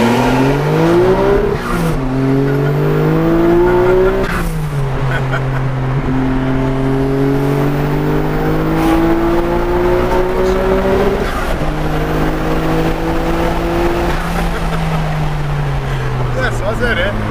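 Loud, continuous engine roar of a Nissan Skyline GT-R R34 V-Spec II racing a Porsche 911 Turbo S, with rising and falling revs through gear shifts, heard up close with voices over it.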